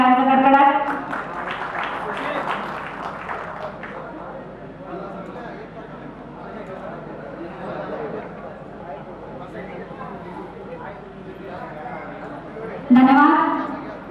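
An audience at a Marathi stage event claps in a steady wash of applause for the backstage crew, mid-level and continuous, with a voice speaking over the start and end.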